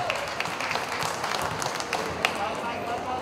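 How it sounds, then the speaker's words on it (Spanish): Spectators clap at a veterans' final basketball game in Tepantlali Mixe, scattered applause rising under a commentator's continuous play-by-play, the claps fairly distant against a busy outdoor crowd. "Ahí los aplausos."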